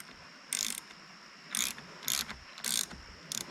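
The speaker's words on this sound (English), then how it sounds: "So now I'm just loosening the 3 spark plugs." A ratchet wrench loosening spark plugs on an outboard motor, a Yamaha 15hp or Johnson 60hp: short bursts of quick clicking, five or so, close by over low background noise.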